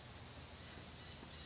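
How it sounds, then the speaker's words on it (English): Cicadas in a willow tree, a dense high continuous buzzing drone, steady and unbroken, heard alone at moderate level. "I got some kind of creepy crawlies up there, some cicadas in the willow."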